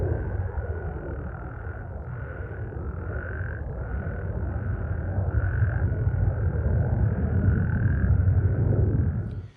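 A chorus of frogs croaks in repeated pulses over a low, steady rumble, the calls rising and falling together throughout.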